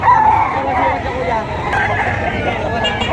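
A stag rooster crows amid a busy poultry auction market in Padre Garcia, Batangas, the call rising over a steady babble of crowd voices and other fowl clucking nearby.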